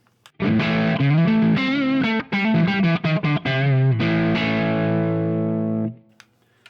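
Distorted electric guitar chords and a riff through a Revival Drive Compact overdrive pedal set to mimic a Marshall amp, warm crunchy tone, played loud, ending on a sustained ringing chord that fades out.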